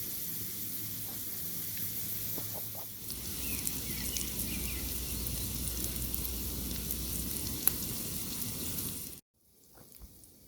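Bacon sizzles in a cast iron pan over a campsite fire, a steady close hiss and crackle that carries on evenly for about nine seconds, then cuts out abruptly to near silence.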